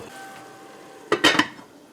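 A metal lid clatters onto a cooking pot of eggplant and eddo curry, three quick clanks in succession over a soft background hum.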